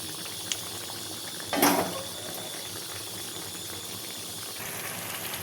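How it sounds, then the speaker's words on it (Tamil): Brinjal kara kuzhambu simmering in a pot, a steady soft bubbling and crackling boil with a brief louder clatter partway through, no speech. "நல்லா கொதித்து பாருங்கள்"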